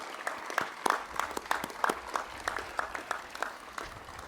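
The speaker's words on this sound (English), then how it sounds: "Let's give them a round of applause" A small crowd at a ribbon-cutting ceremony claps for a few seconds, the uneven individual claps fairly quiet and spread out.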